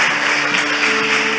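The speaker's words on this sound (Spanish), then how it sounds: "puedes dar un aplauso a Jesús" A church congregation applauds during a sermon, giving a dense, steady wash of many hands clapping together that fills the room at a constant loud level throughout.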